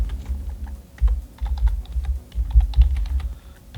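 Someone types code on a computer keyboard in steady bursts of close, crisp key clicks with short pauses between runs. No one speaks over the typing.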